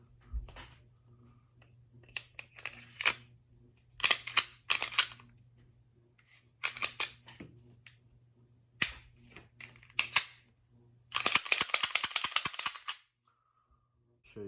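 A Tisas PX9 pistol being put back together after cleaning and oiling gives clusters of sharp metallic clicks, snaps and sliding rattles. The parts are handled close up in irregular bursts, with a low hum underneath and a final longer rattling run.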